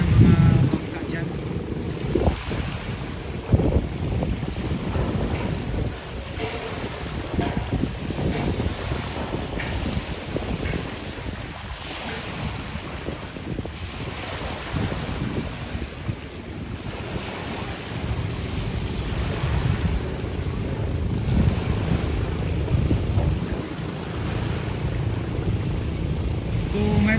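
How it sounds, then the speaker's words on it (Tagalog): Outdoor water scene on the Davao River in Davao City with lapping waves and gusting wind buffeting the microphone, plus the low rumble of boat engines passing at a distance. "tuloy-tuloy pa rin yung daan ng mga bangka dyan."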